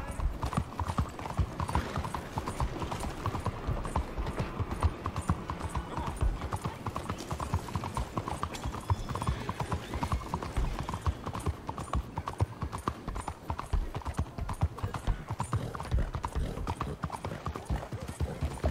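Horse hooves clip-clop steadily through the whole stretch in Red Dead Redemption 2, a black horse ridden at an even pace, the rhythmic footfalls dense and continuous with a faint whinny in the background.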